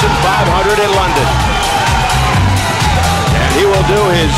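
A sellout boxing crowd of 12,500 in London fills the arena with a loud, continuous roar of cheering and babble as a fighter makes his ring entrance to music, with scattered whoops rising above the din.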